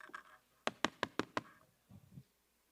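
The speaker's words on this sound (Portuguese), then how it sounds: "Ela, então, bateu na porta." Five sharp knocks on a door in quick, even succession, loud and close, followed by a couple of softer, muffled taps.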